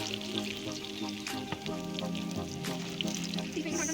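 Shami kababs fry in a pan over a medium-low flame, a close bubbling sizzle with small crackles and spits, and faint voice-like tones mixed in under the frying.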